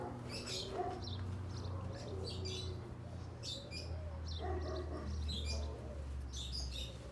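Doves, pigeons and lovebirds kept in pens make repeated chirps, tweets and low coos at close range, with bursts of calling over a steady low background hum.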